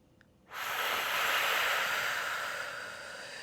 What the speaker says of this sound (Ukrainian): Ми будемо робити вдих та видих через супротив